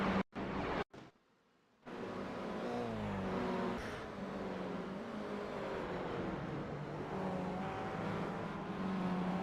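Production race cars racing on a circuit, engines droning and shifting pitch as they pass, steady and moderately loud after a brief choppy start, with no voices heard.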